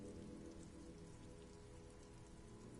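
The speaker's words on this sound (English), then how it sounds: "rain falls on the great city of Revachol. Rain drips from the eaves and floods the gutters" Steady rain pours over the rain-soaked city of Revachol in the video game Disco Elysium, dripping from eaves and flooding gutters; a dense, continuous hiss of falling water holds at an even level throughout, with no voices.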